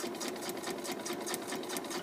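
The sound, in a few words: sewing machine stitching along a drawn line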